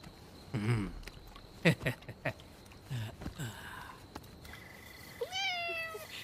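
A cat meows several times, close and fairly clear, with short high cries spread across a quiet indoor scene and a rising, drawn-out meow near the end.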